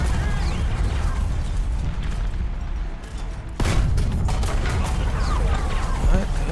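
Gunfire in a World War I video game aimed at a Saint Chamond tank: dense rattling shots and metallic impacts against a constant heavy engine rumble, with one sharp loud hit midway and the clatter continuing after it.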